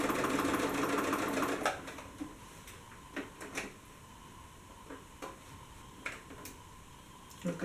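A sewing machine stitches in a rapid steady run for a couple of seconds, then stops, followed by scattered light clicks and handling taps.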